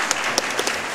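Audience at a live speedrun marathon event claps in a brief, dense burst, steady and fairly close, with no talking over it.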